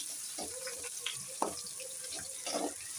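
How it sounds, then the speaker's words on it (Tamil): Small shallots sautéing in hot oil for a goat intestine curry, a soft, continuous sizzle with faint clicks and scrapes of stirring close by. "சின்ன வெங்காயம் போட்டு நல்லா வதக்கிப்போம்"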